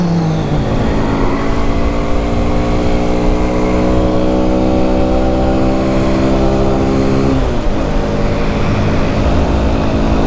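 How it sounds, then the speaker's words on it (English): A small 7-horsepower motorcycle ridden along the road: a loud, steady engine drone with rising harmonic whine, one gear change partway through, close and continuous, no talk. "this bike is 7 horsepower."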